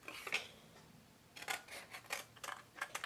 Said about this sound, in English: So now you have these two pieces that you're going to cut in an angle